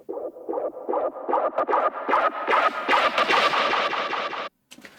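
Filtered dubstep bass fill synth, a series of choppy rhythmic bass stabs that open up brighter as the filter sweeps, building over a few seconds before cutting off abruptly.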